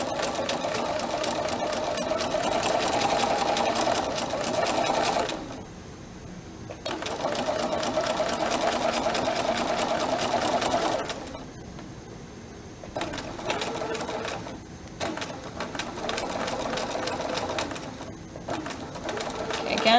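A sewing machine runs fast, sewing long straight stitches without backstitching, in loud sustained bursts separated by short pauses, close up, with a person talking over it at times.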